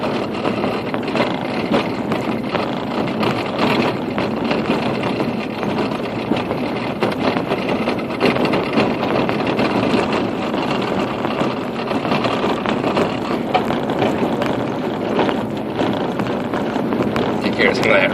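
A car drives along a gravel road, a steady rumbling crunch of tires on loose stone with rattles inside the cabin, continuous and fairly loud throughout, with a voice talking over it.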